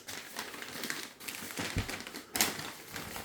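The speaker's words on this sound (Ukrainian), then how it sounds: "Андрій розрізає зразу пакет, подивимося, що там." Plastic bag inside a Saeco Phedra Evo coffee machine box being cut open, soft crinkling and rustling with a few sharper snips and crackles, fairly quiet and close.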